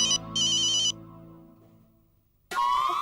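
A mobile phone ringtone plays in two loud electronic bursts in a home, then a quieter spell follows before a bright rising tone sweeps in at the end.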